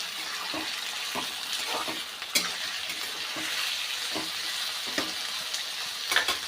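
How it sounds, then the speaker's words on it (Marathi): Fresh green peas being sautéed in a pan for Maharashtrian masale bhaat, with a steady sizzle under repeated scraping stirs of a spoon, close and moderately loud without talk. "यानंतर यामध्ये ओला वाटाणा ते तो देखील आपण छानपैकी परतून घेऊया"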